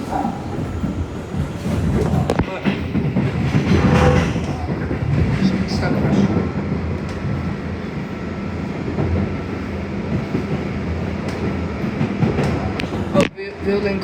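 Ride aboard an R211A subway car on the D line from Coney Island–Stillwell Avenue toward Kings Highway, a steady close rumble of wheels and car noise throughout with some speech-like sounds, briefly dropping out near the end.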